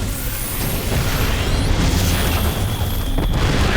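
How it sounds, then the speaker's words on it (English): Siege tank shots in StarCraft II, heard as heavy booming blasts and explosions inside a dense, loud wash of game battle noise that stays constant throughout. "Couple tank shots, doesn't lose a roach yet."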